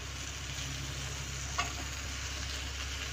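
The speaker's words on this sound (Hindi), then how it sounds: "अच्छे से हमें इसे फ्राई करना है, आलू और गोभी को जल भी ना जाए और ये पक भी जाए अच्छे से" Potato and cauliflower frying in a pan, a soft, even sizzle with a faint steady hum beneath and one small clink of stirring, quiet and continuous, no voices.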